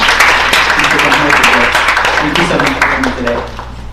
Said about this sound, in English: We want to give another round of applause for Councilmember Mohan.